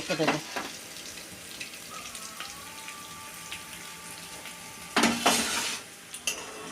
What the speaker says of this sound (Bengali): আস্তে আস্তে আমি উল্টে উল্টে ভেজে নেব